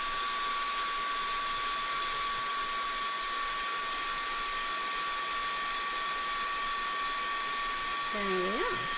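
A heat gun blows hot air steadily over an altered mixed media canvas, giving a constant loud airflow whine that runs close throughout, with a brief higher whistle near the end.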